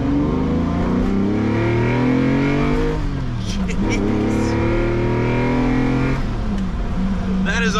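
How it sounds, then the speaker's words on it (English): Lamborghini Countach with a Capristo exhaust and the roof off revving hard, a loud, deep, throaty engine note that rises and falls through several strong pulls, close by. "It definitely captures the exhaust note that the Countach is sort of iconic for, but a little more throatier, a little bit deeper"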